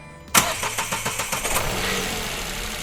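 A Dacia Sandero with a 1.0 SCe engine and a fitted E85 ethanol kit cranks in a quick rhythmic burst, then catches and settles into a steady, fairly loud idle, with no talking.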